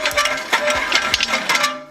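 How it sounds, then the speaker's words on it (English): A worn BMW M3 suspension gives off a run of irregular metallic clunks and rattles, close and fairly loud, with no voices. "that's when you know you have something going on with your suspension"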